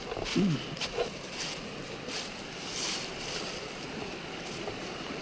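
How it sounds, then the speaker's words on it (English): Steady broadband rush of creek water flowing near a campsite on a mountain hiking trail, continuous and fairly close, with faint wind and a few small knocks over it. "Got a nice creek right out of sight."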